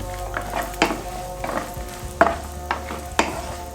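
Raisins being lightly sautéed in a pan while making somas: a soft, close frying sizzle broken by several sharp spoon-stirring clicks and scrapes, with no talking.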